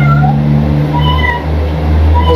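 A cat meows loudly and close, a drawn-out wavering cry with a steady low hum beneath it, continuous for the whole moment.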